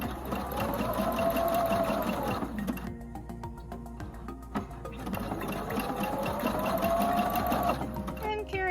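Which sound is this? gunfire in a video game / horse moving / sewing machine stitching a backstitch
sewing machine stitching a backstitch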